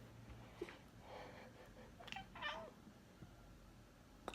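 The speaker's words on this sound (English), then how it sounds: "So that was my cat, Stella." A pet cat gives a few faint, soft meows and chirping murmurs near the middle, quiet and low over a steady background hum.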